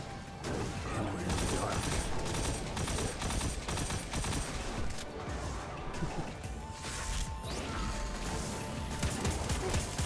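Rapid gunfire and impact crashes in the shooter game Destiny, dense bursts of shots and smashes throughout, loud and chaotic, with a voice talking over the action.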